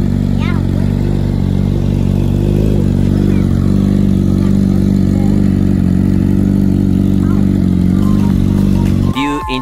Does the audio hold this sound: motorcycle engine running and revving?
yes